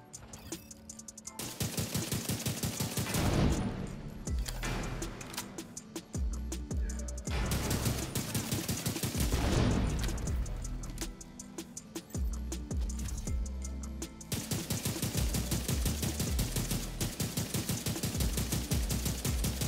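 Rifle gunfire in The Division 2 video game, loud sustained bursts of rapid shots repeating almost continuously with brief gaps, no talking over it.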